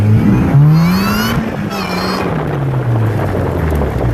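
A car accelerating hard through the gears, engine pitch climbing steeply then dropping at a shift and rising again, loud and close from inside the cabin with no talk.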